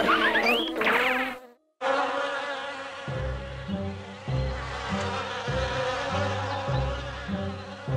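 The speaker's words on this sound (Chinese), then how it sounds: "愤怒的蜜蜂。" Angry bees buzz in a dense, continuous drone with other tones underneath, broken by a brief gap before the steady insect hum resumes.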